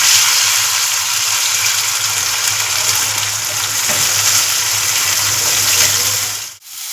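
Tomatoes fry in a pan, giving a loud, steady sizzle with a low hum beneath, close up and continuous until an abrupt cut near the end.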